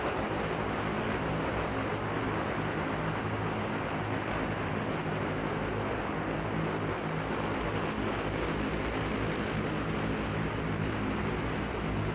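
Aircraft taxiing toward a hangar in Arma 3, a steady broadband engine and propeller roar that stays loud and unchanging throughout, with no talk.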